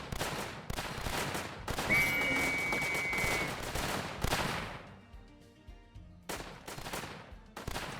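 Rapid gunfire in a WW2 zombie tower defense game, dense bursts of shots running for several seconds, then trailing off before a few more sharp volleys near the end.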